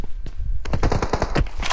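Rifle gunfire in the video game PUBG, a rapid automatic burst of loud close shots in quick succession after a brief lull with scattered distant pops.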